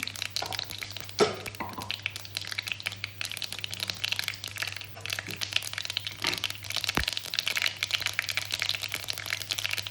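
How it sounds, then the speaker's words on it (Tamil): Urad dal, cumin seeds, fenugreek and a little black pepper frying in hot oil, giving a steady dense crackle and sizzle with small pops throughout, close and alone with no talking. "உளுந்தம்பருப்பு, சீரகம், வெந்தயம், கொஞ்சம் மிளகு பொரியட்டும்."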